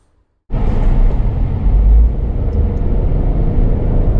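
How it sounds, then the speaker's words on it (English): A 2025 Chevrolet Trailblazer LS AWD heard from inside the cabin on the road, silence giving way abruptly to a steady, loud low rumble of engine and road noise that holds for the rest. "we are ripping down the road in this 25 Trailblazer LS all-wheel drive"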